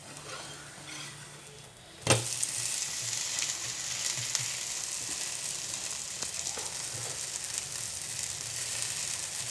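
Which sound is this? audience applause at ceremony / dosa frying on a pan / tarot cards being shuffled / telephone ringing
dosa frying on a pan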